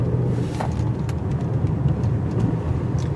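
A 2017 or 2018 Mazda CX-5 with all-wheel drive rolls through a tight circle, its steady engine and road rumble heard from inside the cabin with no talk.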